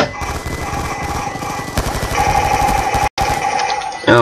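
Rapid automatic gunfire in a Black Ops 2 multiplayer match on the Apocalypse DLC, loud, dense bursts of shots running almost continuously with a brief cutoff near the end.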